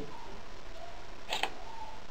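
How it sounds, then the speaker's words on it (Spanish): A single crisp mechanical shutter click from a Nikon DSLR camera sounds once against a quiet background hum. "ahí se va a escuchar el sonido del obturador"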